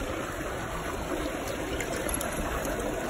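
Water runs steadily through a gem mining sluice as stones are washed, a close, continuous rushing and trickling flow without any voices.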